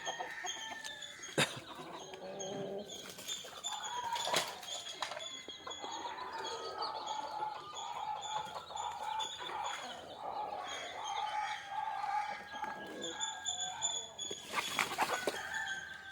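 Country chickens clucking nearby in a quiet farmyard, scattered clucks and short calls with a few sharper bursts, fairly faint and spread across the whole stretch.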